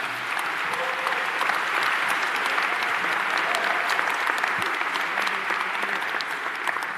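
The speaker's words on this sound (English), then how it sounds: "So please applaud your neighbors for being a part of this meeting tonight." Town hall meeting audience at St. Francis College in Brooklyn applauding steadily, a dense, even wash of many hands clapping at once that holds for the full seven seconds without pause.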